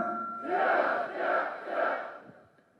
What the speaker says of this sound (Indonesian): Mari kita teriakkan yel untuk lebih semangat sore ini.